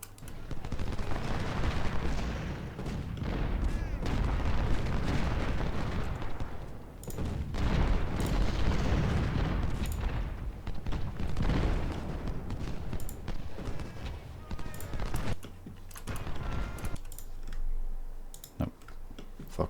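Civil War cannons fire in Ultimate General: Civil War, their dense, rolling booms mixing with rapid crackling musketry in a continuous, busy battle din that thins slightly toward the end.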